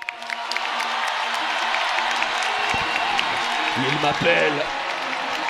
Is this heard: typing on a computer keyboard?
no